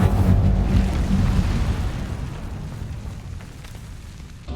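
Incendio fire spell cast in Hogwarts Legacy, a loud roaring whoosh with heavy low rumble that bursts out at once and slowly fades over several seconds, with no talk.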